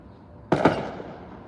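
Fireworks go off at night in two quick, sharp bangs close together, with a rumbling tail that fades over the next second against a quiet background.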